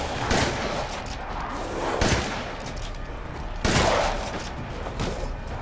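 Dense gunfire in Resident Evil Village on PS5, a fortress fight where shots land in close succession with heavy thuds and a constant loud roar of combat, several stronger blasts standing out.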